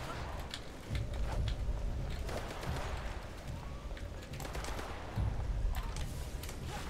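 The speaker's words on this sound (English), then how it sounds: "Oh, you are no match for the power of my cannon." Cannon fire in the Primal Carnage Extinction video game, a rapid volley of repeated blasts with mechanical clatter, continuous and moderately loud over several seconds.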